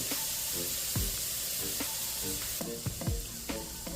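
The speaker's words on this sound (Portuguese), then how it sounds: "Vou colocar aqui 5 dentes de alho triturado, moído, como você preferir. Agora eu vou deixar dourar bem." Crushed garlic frying golden in oil, a loud continuous sizzle broken by repeated stirring scrapes and spatula knocks at a steady, uneven rhythm.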